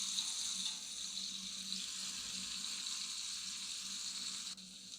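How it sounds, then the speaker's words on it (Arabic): Onion, garlic and green pepper sauté in a pan for a red rice dish, giving a steady, soft hiss and sizzle with no talk. "هنشوح البصل اللي دبل مع الثوم مع الفلفل الاخضر"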